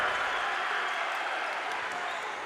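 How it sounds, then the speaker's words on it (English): A crowd at a boys' sub-state high school basketball game roars and claps right after a made shot, a loud, steady wall of cheering that fills the whole moment. "Crowd is losing their minds."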